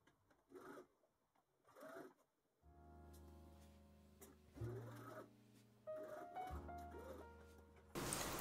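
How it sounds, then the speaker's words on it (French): A sewing machine runs in short, quiet bursts as it stitches suede fabric for a tote bag, with small rustles and handling noises between the runs. "Je vais coudre la suédine."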